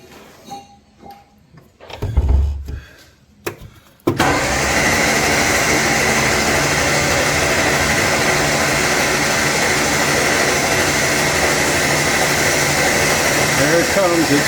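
An MG Midget engine that sat for 35 years cranks over after a few clicks and thumps. Then it catches into a loud, continuous, rough rumble that runs close and steady to the end, with no talk over it.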